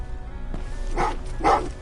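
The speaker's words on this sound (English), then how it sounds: "Oh, what's with the dogs?" Dogs barking in the video game Terminator Resistance, two short bursts about half a second apart over a steady game background hum, moderately loud.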